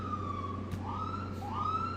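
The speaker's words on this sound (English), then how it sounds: "No, we're playing with our siren. We're having fun with it." A vehicle siren played with for fun, its wailing tone sliding down and then sweeping back up twice in quick yelps over a steady low engine drone.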